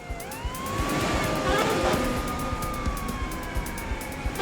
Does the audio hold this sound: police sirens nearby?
yes